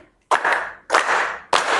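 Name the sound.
hand clapping a rhythm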